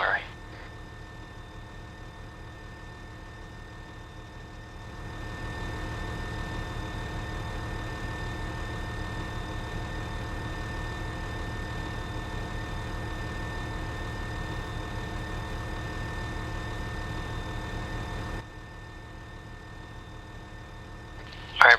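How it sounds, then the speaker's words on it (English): Vehicle engine idling in the military game ArmA 3, a steady low rumble with a constant hum that grows slightly louder partway through, then drops back before cutting off; no speech. "did you want to kill the engine?"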